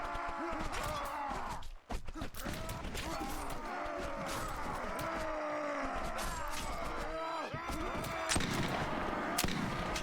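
Rifle shots and battlefield clatter from the video game Mount and Blade, a dense mix of sharp reports and mechanical noise with a few brief gaps, at moderate loudness.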